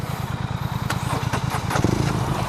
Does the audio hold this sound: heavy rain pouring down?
no